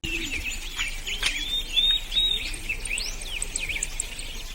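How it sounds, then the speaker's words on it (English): Birds chirping in a cartoon, a lively run of bright high tweets and short whistled calls repeating throughout, close and clear over a soft background. "the birds were chirping"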